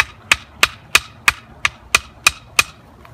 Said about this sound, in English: I take my hammer here and give it a few taps.